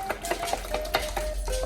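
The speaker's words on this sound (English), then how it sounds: "I'm gonna mix up these yolks" Egg yolks being whisked in a bowl, quick repeated scraping and clinking strokes of a utensil against the bowl, close and fairly soft.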